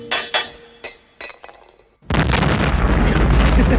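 A film explosion at the Axis Chemicals plant from the 1989 Batman movie erupts as a sudden loud boom and keeps roaring, preceded by a few sharp clinking and popping hits.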